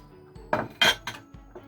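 A spoon stirs hot and sour soup in a metal pot, making a handful of close metallic clinks and scrapes against the pot sides at an uneven pace.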